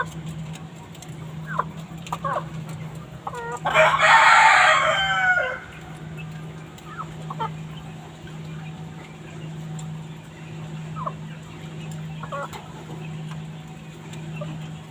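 On a poultry farm a chicken lets out one loud, rasping crow-like call close by, with scattered soft clucks and a steady low machine hum in the background.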